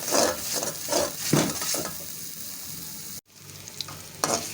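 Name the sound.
poppy seed masala roasting in a pan while stirred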